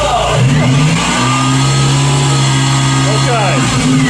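A Jeep engine with a newly installed high-output alternator revs up to about 2,000 rpm and holds steady, a loud, close, droning hum with the AC running and a brief rise and fall in pitch.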